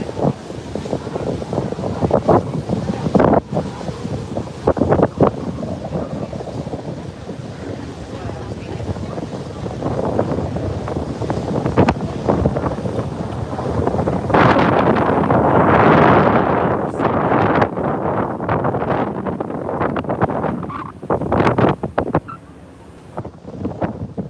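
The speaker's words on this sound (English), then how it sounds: "Wind is pushing." Strong wind buffets the open deck of a ferry in New York Harbor, roaring and gusting against the microphone with uneven thumps, swelling loudest about two-thirds through before easing off.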